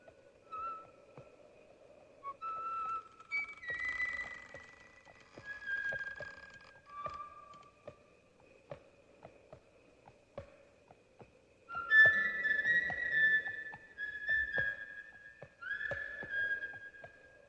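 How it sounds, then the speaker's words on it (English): Whistled melody over horse sounds from Disney's animated Ichabod and Mr. Toad, as Ichabod rides into the haunted dell; bright whistled phrases come in bursts over a steady clopping, rhythmic hoof pattern, with no talk. "he did the whistling for Ichabod riding into the haunted dell"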